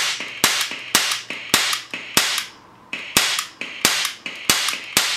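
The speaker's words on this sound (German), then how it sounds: "Und so folgt Schuss auf Schuss." Sharp, snappy Walther P38 CO2 air pistol shots fired one after another at a steady pace, about a dozen loud cracks close by, each with a brief ringing tail.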